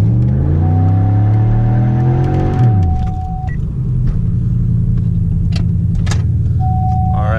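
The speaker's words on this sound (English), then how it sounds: "That wasn't even that bad of a burnout, though." A MazdaSpeed6 front-wheel-drive car doing a tire burnout, loud close engine rumble with revs climbing and dropping, then a steady droning roar.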